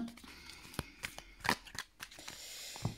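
Tarot cards being cut and handled by hand, with a run of separate crisp card snaps and slides, several sharper slaps close by against a quiet room background.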